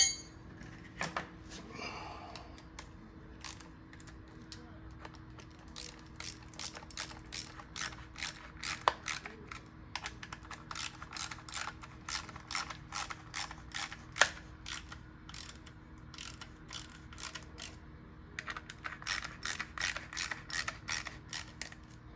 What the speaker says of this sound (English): where's my 1/4-inch drive?